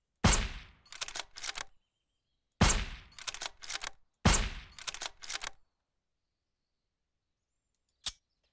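Sniper rifle shots fired at infected in the game Surroundead, three sharp loud reports spaced a couple of seconds apart, each followed by quick mechanical clacks of the bolt, then silence and a final short click.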